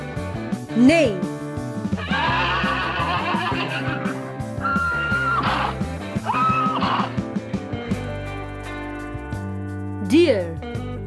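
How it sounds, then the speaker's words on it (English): A horse whinnies briefly near the start and again near the end, set against layered music and other animal-like calls in between. "Horse, neigh."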